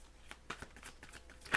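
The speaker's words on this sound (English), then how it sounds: "One more shuffle here." Tarot cards are shuffled in quick, soft riffling flicks and slaps, close and quiet, ending in a sharper snap.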